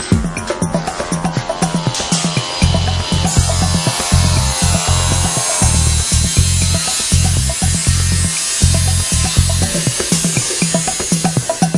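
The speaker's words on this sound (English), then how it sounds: "For cutting the comb panels, use the approved Effador tools. A conventional cut-off grinder might be used as well." Power tool cutting through comb insulation panels, a loud steady grinding whine with a regular pulsing low chatter running throughout, close and continuous.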